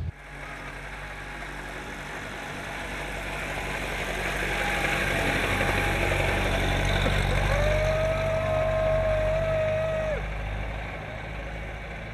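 Historic car engine idles at a hill climb event in Brno-Soběšice, a steady low rumble that swells slightly in the middle, with a faint high tone briefly sounding nearby.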